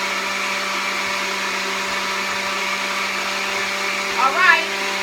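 A blender grinds grapes and ginger with a steady, loud motor whine and constant hum throughout, with a brief louder surge near the end.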